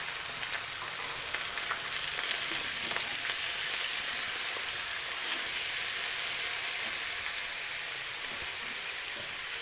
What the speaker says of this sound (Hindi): अब जबकि हमारा प्याज हो चुका है अच्छे से लाल, तो इसमें मैं डाल दूँगी अपने कटे हुए चठैल।